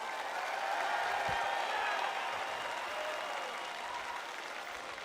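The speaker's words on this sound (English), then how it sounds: "Can you guys give them a round of applause" A large crowd at a national Boy Scout jamboree gives a sustained round of applause, a steady dense wash of clapping that holds for several seconds and tapers slightly toward the end.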